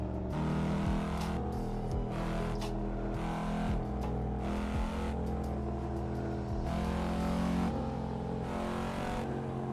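Engine of a car driven in traffic in the PC racing game Assetto Corsa on an online server, a steady loud drone with shifting revs and occasional gear changes, alone with no talk.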